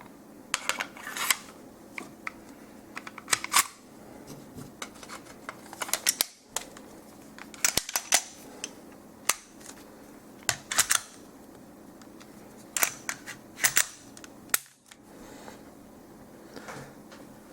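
A Springfield Armory XD-9 pistol being put back together by hand, with a scattered series of sharp metallic clicks, slides and snaps close by, separated by short quiet pauses.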